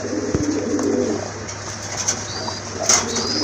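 Domestic pigeons, a crested cock among fancy pigeons kept in a loft, cooing in low repeated calls with some wing flapping, fairly close and without talk.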